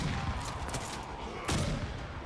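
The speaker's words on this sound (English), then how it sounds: "Somebody's shooting at me." Gunfire in the video game Warframe, a short burst of rapid shots with a sharp crack midway, moderately loud against game ambience.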